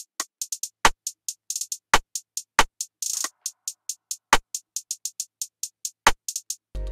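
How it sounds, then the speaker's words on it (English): Programmed drum beat from FL Studio plays alone: crisp rapid hi-hat ticks over sparse, punchy kick and snare hits in a quiet, repetitive hip-hop pattern. "So the drums sound like this."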